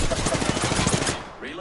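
Rapid automatic gunfire in the battle royale game Apex Legends, a loud stuttering burst of shots that stops after about a second, followed by quieter game sounds.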